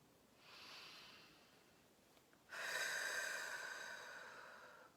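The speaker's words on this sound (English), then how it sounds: "Nice deep breath." A slow deep breath drawn in softly, a brief pause, then a stronger, longer airy exhale that trails off gradually, close and quiet with no talking.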